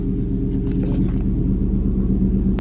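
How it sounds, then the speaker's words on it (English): A neighbor's very loud truck rumbles steadily nearby, its deep engine drone holding constant throughout with a faint higher clatter in the middle and a brief sharp click near the end, no voices over it. "Our neighbors have an incredibly loud truck."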